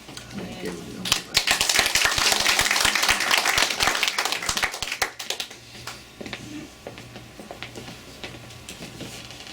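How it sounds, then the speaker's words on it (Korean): A church congregation claps for a visiting missionary, a dense burst of hands that peaks early and then thins to scattered claps as a voice begins speaking over it. "오실 때 이제 우리 하나님 앞에 큰 박수를 올려드립시다"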